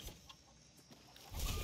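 A rooster on a farm in the game Far Cry 6 clucks in short, faint bursts over steady ambient noise, with a louder rush of sound near the end.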